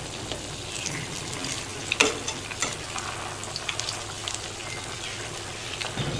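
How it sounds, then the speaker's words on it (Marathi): Flipped fasting tikkis fry in hot oil with a dense, continuous sizzle, scattered crackles and a few spatula knocks close by. "आता ही पलटी केलेला अंग 2-3 मिनिटं परत याला तळून घेऊ."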